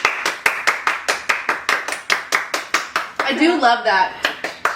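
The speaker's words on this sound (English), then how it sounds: "Everybody clap your hands" Steady rhythmic hand clapping from a fitness challenge session, about twenty sharp even claps at a regular beat, briefly overlapped by a short spoken remark near the end.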